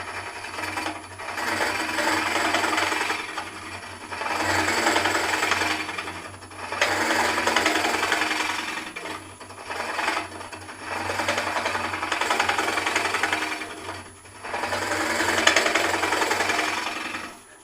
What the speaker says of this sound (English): This is another shielded type cutter, the Rolling Monroe, and you can get in with the rollies quite well.